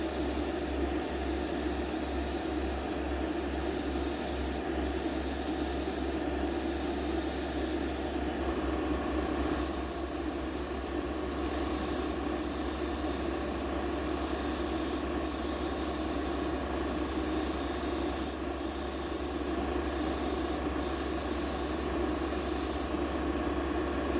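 An airbrush hisses out a medium-to-light tint coat onto model car glass, a steady close spray with brief pauses and restarts, nothing else audible.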